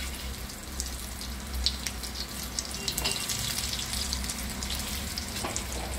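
Brinjal slices frying in a pan, a dense close sizzle running throughout with scattered crackles and small spatters, steady in loudness and free of talk.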